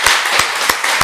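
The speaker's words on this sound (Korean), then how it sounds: "큰 박수로 한번 격려하십시다." A church congregation applauds during a Sunday worship service, a dense, loud, steady wash of many hands clapping together, close and continuous.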